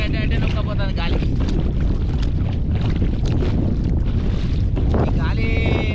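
Strong wind blows across open water during a fishing trip, buffeting the microphone in a loud, continuous rumble, while a voice speaks briefly over the gusts.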